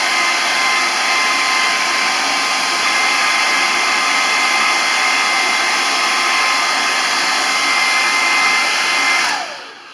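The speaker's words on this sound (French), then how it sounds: "Vous prenez un sèche-cheveux et vous le séchez." Hair dryer blowing a steady, loud whooshing whine as it dries a vacuum cleaner's air filter, running continuously and alone before the motor winds down and stops near the end.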